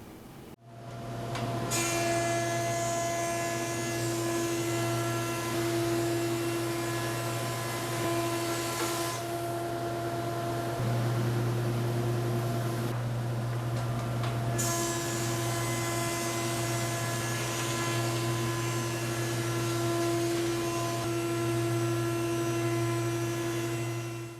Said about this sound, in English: Let's run some quarter sawn white oak through there and check the surface quality.